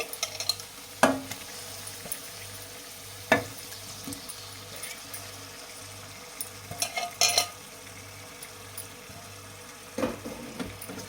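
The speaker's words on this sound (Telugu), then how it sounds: "ఇప్పుడైతే ఇదిగోండి బోటి దీన్ని అయితే వేసుకుంటున్నా అండి" Beef tripe sizzles steadily in a hot pan while being stirred in a home kitchen, with a constant frying hiss and occasional clinks and scrapes of a spoon against the pan.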